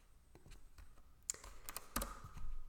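Quick, irregular keystrokes tapped out on a computer keyboard, close and fairly quiet, with a couple of sharper clacks standing out near the end.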